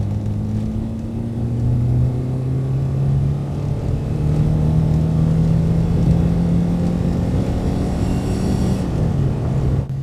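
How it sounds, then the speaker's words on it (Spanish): A 1982 Renault 5 Alpine Turbo Gordini pulling hard at full throttle in third gear from about 3000 rpm, a loud steady engine drone whose pitch climbs smoothly, heard from inside the car. "Tercera velocidad, estamos a 3000 revoluciones pie a fondo."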